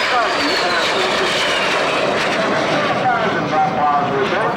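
A de Havilland Vampire jet at an airshow roars past loud and steady, a dense broadband engine rush with a whining edge that holds for several seconds while a commentator talks over it.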